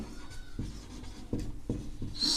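Pen or chalk writing during a class 10 maths lesson on the Pythagoras theorem: faint, close scratching strokes in short repeated bursts, with no speech.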